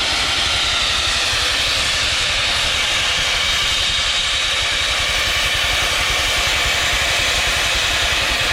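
A steam traction engine's safety valve pops off, venting boiler pressure in a loud, continuous, steady roar of escaping steam that fills the whole stretch close by, with no voices.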